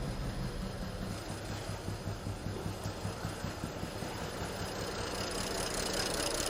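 A BMW 535i E61 wagon engine idles roughly and unevenly nearby, a steady low rumble with an irregular pulsing, lumpy beat and no voices.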